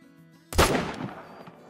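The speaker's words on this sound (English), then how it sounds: "just shooting anything we see today, just getting a feel for the M1 Garand" A single M1 Garand rifle shot from the hunting game theHunter: Call of the Wild, a sharp loud crack after a near-silent half second, trailing off into a long reverberant decay across open terrain.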